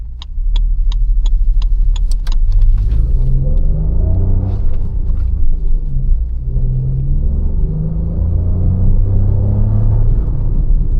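Toyota Urban Cruiser Taisor 1.0L turbo petrol with a manual gearbox accelerating hard through the gears, with loud, close engine drone rising in pitch, dropping at shifts and climbing again, preceded by a few sharp clicks.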